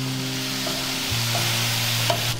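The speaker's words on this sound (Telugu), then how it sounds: "ఆయిల్ కొంచెం వేడెక్కిన తర్వాత మనం మ్యారినేట్ చేసి పెట్టుకున్న ప్రాన్స్ వేసుకోవాలి. వీటిని బాగా ఫ్రై చేసుకోవాలి." Marinated prawns fry in hot oil in a pan with a steady, loud sizzle and occasional stirring scrapes, no voices.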